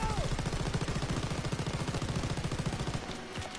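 Sustained automatic machine gun fire in a World War 2 video game, a steady fast rhythm of loud shots running for about three seconds before tapering off, with a voice briefly heard.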